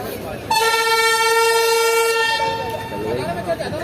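Passenger train, the Zikriya Express, sounding a loud sustained multi-tone horn as it starts to move off, steady for about two seconds before fading into rumbling rail and carriage noise, with a voice faintly in the background.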